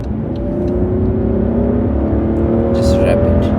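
A 2015 BMW 7 Series with an N54 engine revs and pulls hard from 50, a loud steady drone climbing in pitch as the car accelerates.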